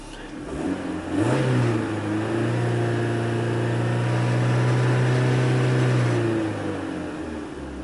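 A 2001 Saturn Coupe engine with a reported running fault is revved close up, the pitch climbing from idle into a sustained high rev, holding for several seconds and then dropping back down.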